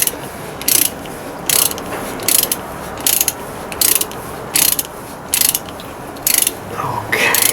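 A tap or thread-cleaning tool is driven down through a threaded hole on a Lancia Delta Integrale, giving a series of evenly spaced, crisp ratcheting bursts close by with short quiet gaps between them.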